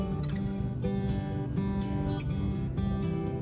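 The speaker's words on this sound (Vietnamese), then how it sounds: "Nhiều khi đang yên tĩnh mà nghe tiếng dế nó kêu, cảm giác rất là dễ chịu, rất là thoải mái." Crickets chirp in a semi-dry pond, sounding as loud, close, shrill bursts of rapid pulses repeating in a steady rhythm, with no voices.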